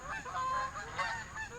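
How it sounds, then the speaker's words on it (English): A flock of geese passes over a garden, several birds honking in overlapping, uneven calls that carry clearly through the short stretch, with no talking. "Oh, flock of geese."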